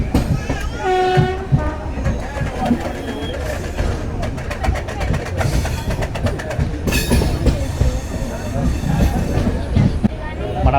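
Sabari Superfast Express running out of Miryalaguda, a loud, dense on-board roar with rapid rhythmic wheel clatter and a horn-like tone early on, while voices talk over it.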